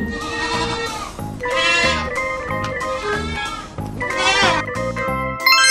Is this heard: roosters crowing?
no